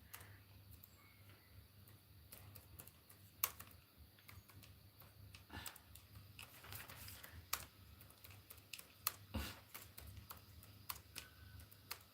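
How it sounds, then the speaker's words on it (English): Typing on a computer keyboard, quiet irregular key taps scattered over a low steady hum, with no voices. "Let me type that."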